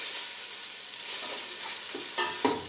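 Tomato pieces fry in ghee and oil with a steady close sizzle, broken by a few scraping stir strokes toward the end, with no voices.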